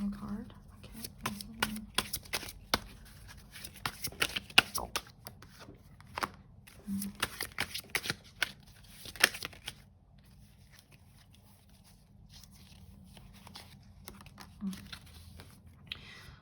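Tarot cards are shuffled, drawn and handled up close in short papery flicks and rustles, clustered busily early on and thinning later, with brief quiet gaps and a faint low hum underneath.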